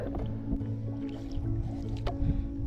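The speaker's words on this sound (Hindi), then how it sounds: "ये देखो लेफ्ट तरफ चप्पू चला रहा हूँ" Kayak paddle strokes dipping into lake water, soft splashes and gurgles repeating under a low steady hum, close by with no talk.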